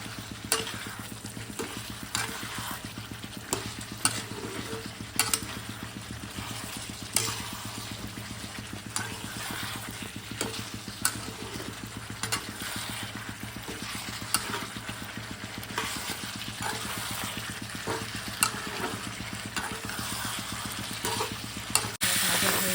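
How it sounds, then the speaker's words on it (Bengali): Koi fish (climbing perch) sprinkled with chili powder sizzles steadily in a frying pan while being stirred, a continuous close frying hiss broken by repeated scraping strokes throughout. "এরপর লঙ্কার গুঁড়ো হালকা ছিটিয়ে নিয়ে এটাকে আবার ভালো করে নাড়াচাড়া"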